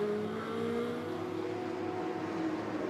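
A Corvette GT race car driving on the Nürburgring circuit, its engine a continuous moderately distant whine with steady harmonic tones and no voices over it.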